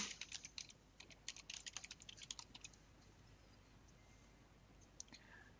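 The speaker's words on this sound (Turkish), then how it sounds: "Web sitenin URL'sini yazıyorum." Typing a website URL on a computer keyboard: a quick run of close, light key clicks for about three seconds, then near silence with a couple of isolated taps.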